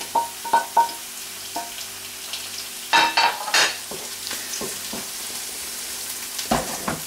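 Tomato and red pepper sautéing in a pan, a soft steady sizzle punctuated by intermittent scraping and clattering stirs, some louder bursts, close by.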